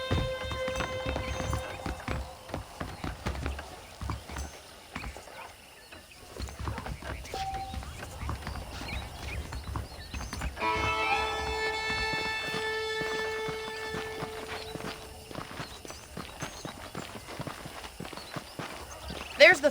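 Horse hooves clip-clopping at a steady walking rhythm in Red Dead Redemption, close and moderately loud beneath someone talking, with brief whinny-like tones and an outdoor ranch ambience.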